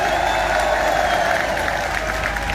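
A large crowd at a poetry gathering applauds loudly for the Karauli administration, a dense continuous wash of clapping close and full throughout.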